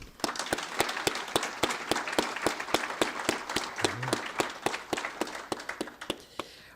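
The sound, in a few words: audience applauding award winners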